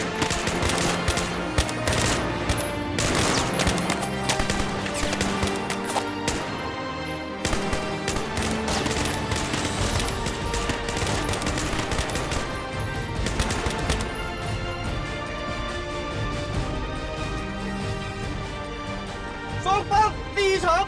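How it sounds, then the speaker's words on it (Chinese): Gunfire at a military shooting exercise rattles on in rapid, dense bursts of shots for about twenty seconds, loud and close, with voices speaking over parts of it. "开始射击。"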